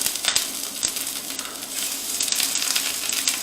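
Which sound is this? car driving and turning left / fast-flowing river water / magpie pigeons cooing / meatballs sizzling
meatballs sizzling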